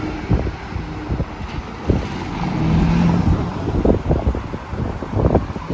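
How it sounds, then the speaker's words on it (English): A car passes outside an Amsterdam metro station on the M52 line, a broad rumble that swells and fades over a few seconds beneath steady wind noise, with no one speaking. "ignore that car"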